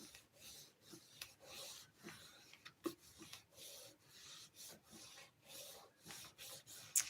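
Paper card for a Stampin' Up! fun fold is rubbed along its border by hand, a quiet, close series of soft rasping strokes in an uneven rhythm with brief pauses between.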